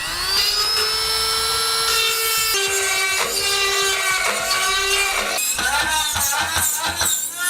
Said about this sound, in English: trim out that area using a die grinder